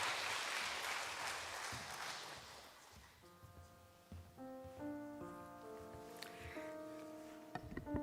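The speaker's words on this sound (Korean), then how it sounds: "우리 다시 한번 유익한 강의 들려주신 김영수 선생님께 감사의 박수 드리겠습니다" A church audience at a Wednesday morning service applauds to thank a career-coaching lecturer, clapping that fades out over the first few seconds before soft sustained keyboard or organ notes take over.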